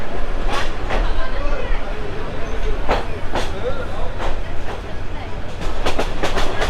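Jayantika Express train crosses a rail bridge on the Dhaka–Sylhet line, a loud continuous rumble from on board with repeated sharp clicks and clacks of wheels over rail joints, quickening toward the end, with a voice speaking over it.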